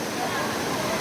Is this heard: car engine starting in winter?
no